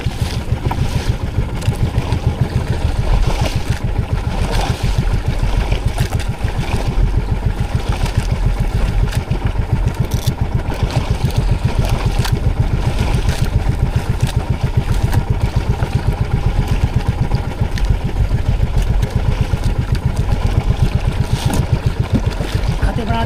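A fishing boat's engine runs steadily after a repair on a tuna fishing trip at sea, a loud continuous low throbbing drone that holds close and constant throughout with no talk over it.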